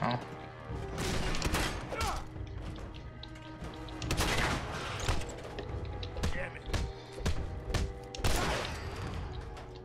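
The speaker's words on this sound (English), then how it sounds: "That's a turret, I think." A turret firing in Fallout 4, irregular bursts of sharp gunshots and thumps scattered across the clip, loud and close, mixed with game sounds and a voice talking.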